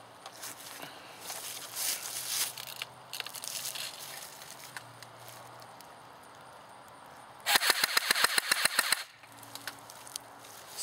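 A JG M4A1 airsoft AEG fitted with an M130 spring fires a rapid burst of about a dozen sharp, evenly spaced shots, loud and close, after several seconds of quiet room noise.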